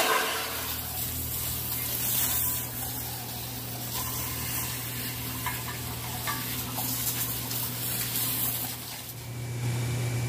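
Vapor honing an engine intake and cylinder heads: a steady hissing, sloshing spray of water and abrasive runs continuously with a low pump hum beneath, close and even throughout, no talking.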